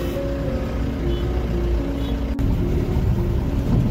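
A car driving along a rough, potholed village road, with a steady loud engine drone and road rumble from inside the cabin and one brief sharp knock partway through.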